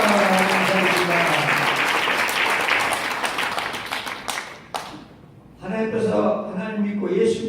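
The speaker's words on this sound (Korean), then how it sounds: "영광스럽게 박수 한번 칩시다." A church congregation bursts into loud, sustained applause that fills the room for several seconds, then fades out. Voices start speaking after it.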